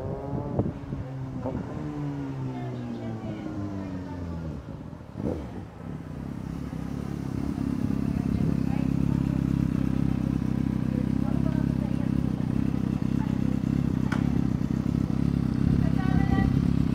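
A 1000cc motorcycle engine revs up to a steady loud roar, climbing through rising tones before holding a sustained high drone, with a passing gust of wind noise in the middle.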